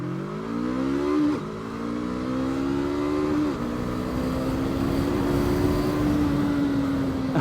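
A 2021 VOGE 500AC motorcycle accelerates hard at full throttle, its engine note climbing in rising sweeps, with two brief dips at the gear changes before pulling steadily higher, loud and close.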